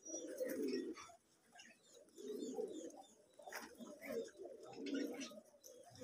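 Giribaz pigeons coo repeatedly in a loft, three or four low rolling bursts with short pauses between, close and fairly steady, with no talk.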